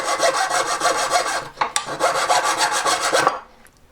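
A saw blade cuts through aluminium in quick back-and-forth strokes, a close, dry, scratchy rasp in two bursts with a short gap between them.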